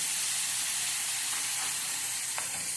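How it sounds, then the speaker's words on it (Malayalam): A little boiling water poured into a fried spice mixture for avocado pickle, producing a continuous loud hiss and sizzle of steam throughout, close by with no talking. "സ്വല്പം വെള്ളം ഒഴിച്ചിട്ട്"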